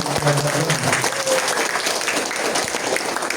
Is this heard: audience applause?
yes